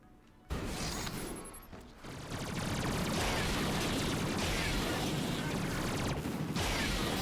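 Warmonger weapon firing in Ratchet and Clank (2016), a dense, continuous roar of launcher blasts and explosions that swells after a short lull and stays loud and sustained to the end.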